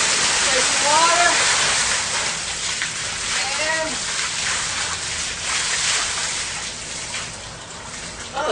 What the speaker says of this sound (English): So we're displacing water here.